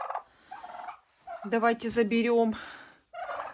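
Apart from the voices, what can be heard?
turkeys gobbling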